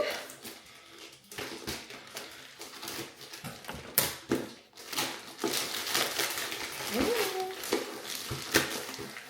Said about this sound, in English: All right, so let's go ahead and cut her open.